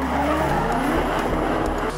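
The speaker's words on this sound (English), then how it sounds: "fighting in behind was former Drift South champ Glenn Puppich in his SR20 powered A31 Cefiro" Nissan A31 Cefiro with SR20 engine drifting at a drift event, loud continuous tire squeal over a droning, revving engine, close and sustained with no talk.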